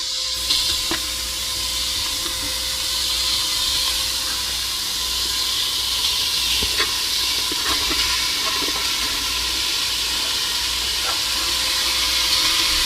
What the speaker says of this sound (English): sizzling as I'm putting it in there.